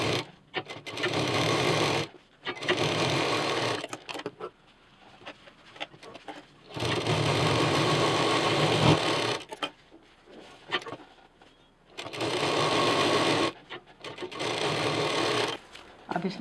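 A sewing machine stitches a straight zipper onto a backpack piece, running in long steady whirring bursts of about two to five seconds with short pauses between, close and loud, while someone talks quietly under it.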